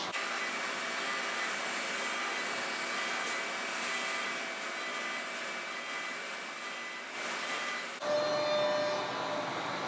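A heat gun blowing hot air onto an ash gunstock treated with iron nitrate, a steady loud whooshing drone held close that shifts in tone near the end.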